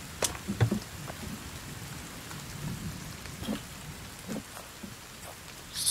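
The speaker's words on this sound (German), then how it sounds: "Aber es regnet gerade so viel" Steady heavy rain pours down in the survival video game The Forest, a dense constant hiss with occasional low rumbles and a few sharp crackles, no voices.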